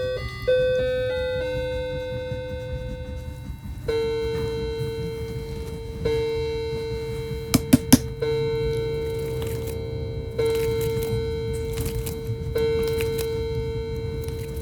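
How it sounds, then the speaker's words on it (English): A household clock chimes a slow melodic sequence of bell tones, each note ringing out and sustaining over a low room hum, with a couple of sharp clicks partway through and no talking. "my clock is now chiming"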